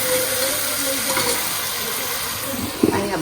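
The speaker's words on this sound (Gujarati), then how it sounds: "કંટોલા સુધારી અને વઘારી નાખીએ છે સરસ મજાનું શાક" Chopped spiny gourd frying in hot oil in a pan, a steady close sizzle and hiss with stirring, and a brief clatter of a utensil near the end.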